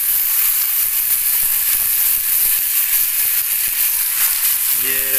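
Washed potatoes hit hot oil in a kadhai over a Himachali wood-fired chulha, giving a loud, steady sizzle and hiss that holds without a break throughout, with no talking.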